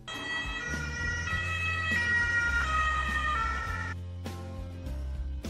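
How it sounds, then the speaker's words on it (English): An ambulance siren wails loudly with steady, bright electronic tones over a low vehicle rumble, then cuts off abruptly near the end. "Ambulance."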